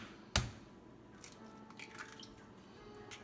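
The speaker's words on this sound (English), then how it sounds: "always crack them on a flat surface" An egg cracks once on a flat surface, a single sharp close knock near the start, followed by quiet soft shell and liquid sounds.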